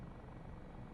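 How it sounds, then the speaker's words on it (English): An Airbus Dauphin helicopter's engine and rotor drone steadily in a flight simulator game, a constant loud rumble heard from the cabin. "the sound design inside, it sounds like an actual helicopter"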